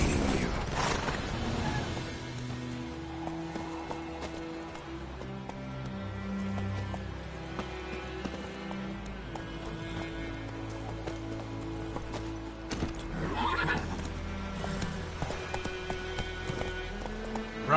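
A galloping horse in the video game The Witcher 3 gives steady, rhythmic hoofbeats over ambient game music and rain-like background, fairly quiet throughout, with no clear neigh standing out.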